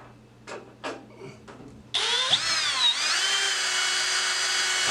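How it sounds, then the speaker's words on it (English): A few light clicks and handling sounds, then a close power drill whines loudly, rising in pitch as it bites into a Sonex aircraft inspection cover for a 3/32 rivet hole, running steadily. "so we can drill the second one"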